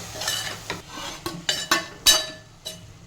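Tomato being stirred into an amaranth leaf curry in a pan: a series of quick scraping and clinking strokes of a spoon against the pan, with a soft sizzle underneath, close and fairly quiet.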